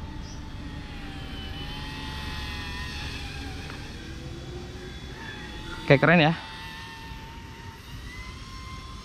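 An Eachine E120 RC helicopter hovers with a steady high motor whine and rotor drone throughout, close by, while someone briefly speaks over it.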